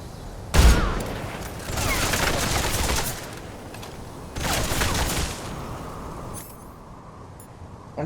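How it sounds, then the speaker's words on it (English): Pistol gunfire in the video game Metal Gear Solid Delta: Snake Eater during a boss fight, with a sharp opening shot followed by two longer bursts of rapid shots and quieter game sounds between them. "I'm finishing her off with a pistol."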